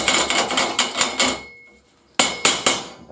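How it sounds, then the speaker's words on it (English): Quick, sharp metallic hammer strikes bending a steel tab while building a steel shed, a rapid run of about eight blows, a brief pause, then three more close-up taps. "Get your hammer."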